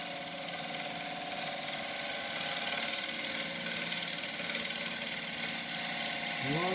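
A wood lathe turns a loquat bowl as a 3/8 spindle gouge cuts, giving a steady, moderate hiss that swells midway, with a brief rising whine at the very end.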